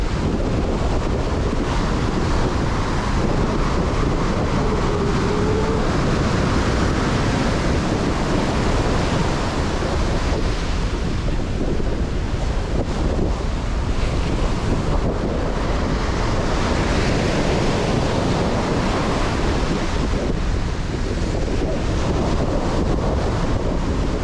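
Ocean surf at Bolsa Chica State Beach churns in a continuous loud wash of breaking waves, with heavy wind buffeting the microphone and no voices.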